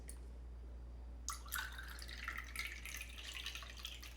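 Lime juice trickling into a metal cocktail measure for a mezcal margarita, a faint close splash and patter of liquid after a quiet start, over a low steady hum.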